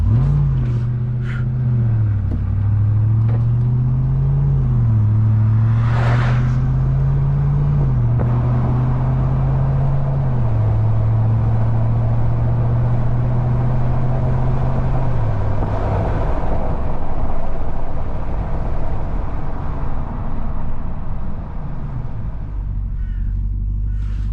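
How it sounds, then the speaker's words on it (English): A 2023 Ram TRX 1500 pickup with 703 hp launches with launch control, its engine droning loud and near with a steady rumbling note that steps up through gears before easing off. "Launch control."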